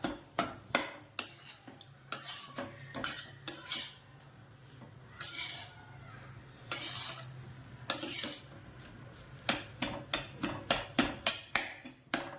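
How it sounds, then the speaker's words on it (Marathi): Potato mashed finely for samosa filling, heard as a series of sharp clinks and taps of a utensil against a bowl in an irregular rhythm, close and fairly quiet, with brief scraping between strikes and no speech. "बटाटा चांगला बारीक करायचा आहे, हा अजिबात मोठा नाही ठेवायचा याला."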